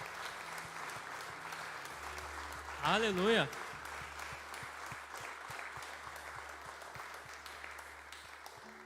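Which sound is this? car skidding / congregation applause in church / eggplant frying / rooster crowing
congregation applause in church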